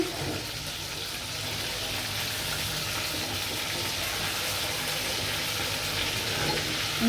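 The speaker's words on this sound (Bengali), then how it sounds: "ওইটা তেল দিয়েই আমি কুপ্তাটি ভাজবো" Chicken kofta balls frying in oil in a pan, a loud, continuous close-up sizzle with a bubbling, watery crackle that holds steady for several seconds without any speech.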